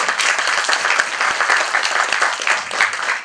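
Applause from the audience at a children's theatre performance, steady dense clapping throughout, loud and continuous with no gaps.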